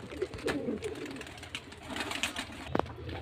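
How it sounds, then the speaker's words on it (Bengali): Pakistani golden pigeons coo softly in a loft, with repeated low throaty calls and faint rustling at close range and no talking. "খুব সুন্দর কোয়ালিটি পায়রার"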